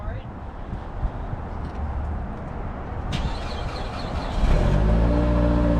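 A high-mileage Saab 9-5 car with a new rear muffler starts up, and its engine settles into a steady, close idle that grows louder and rumbling toward the end, with broadband noise throughout.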